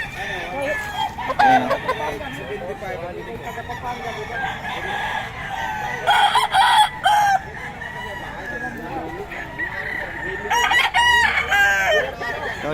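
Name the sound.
young stag rooster crowing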